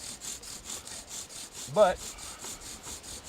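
A wooden bow drill spindle grinds against a wet hearth board in a steady back-and-forth rasping rhythm. A voice briefly speaks over the rubbing.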